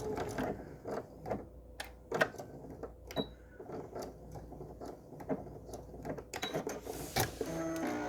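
Rapid mechanical clatter from a standard sewing machine running an embroidery stitch that steps forward and back, with steady ticking needle strokes and small ratcheting bursts throughout.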